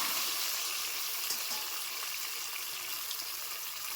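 Steamed watermelon rind pieces fry in butter with a steady, bright, hissing sizzle. The sizzle holds even and close throughout with faint crackles and no talk.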